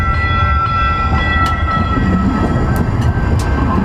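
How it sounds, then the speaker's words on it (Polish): A Siemens S70 tram rumbles steadily close by at a level crossing in Charlotte, with tonal squealing and brief metallic clanks over a continuous heavy rolling noise. "O, tramwaj jedzie, bo się zamkły, zamkły się barierki"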